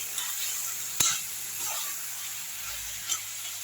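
Chicken with turmeric sautés in a pan, a soft sizzle underneath with a sharp utensil knock near the start and another scrape-tap toward the end.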